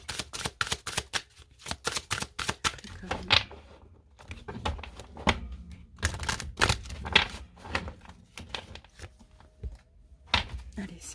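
Tarot cards shuffled and riffled by hand in quick, dense flurries of papery snaps and clicks, with brief pauses between bursts.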